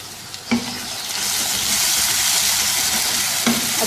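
Whole cumin, fenugreek seeds, garlic-ginger paste and chopped tomatoes sizzle loudly in hot oil in a karahi, a steady broadband frying hiss that swells after a couple of sharp clinks near the start and end, with no talking.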